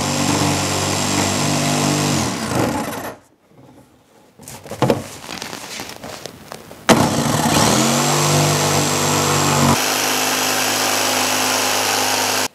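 A power tool cuts a Yamaha Tmax windscreen, its loud motor whining steadily, cutting out briefly amid handling clatter and then restarting to run again.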